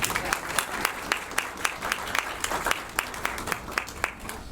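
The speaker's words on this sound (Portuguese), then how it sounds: "Palmas para ela, por gentileza." Audience applause for a speaker called to a round-table panel stage at an insurance industry breakfast event, with sparse individual claps rising from a modest crowd, steady and fairly close throughout.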